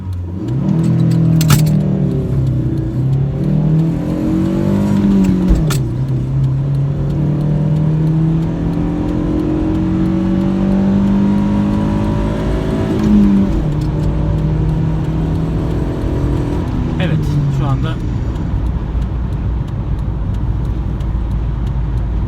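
A Chevrolet Lacetti accelerates hard from 0 to 100 km/h on an open road, its engine note climbing steadily through the gears with brief dips at each shift, loud and close from inside the car.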